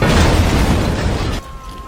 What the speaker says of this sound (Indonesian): ketika bis itu meledak